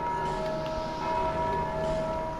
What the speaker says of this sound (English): Don't hit those bells, dude.